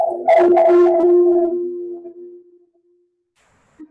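A dog giving a single drawn-out howling bark, loud and close at first, then trailing off into silence, with a faint short sound near the end.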